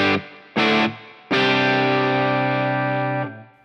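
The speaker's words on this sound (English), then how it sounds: "Let's add some reverb." Distorted electric guitar through a NUX MG-30 multi-effects unit plays two short chords, then one long sustained chord ringing out with a spring reverb tail.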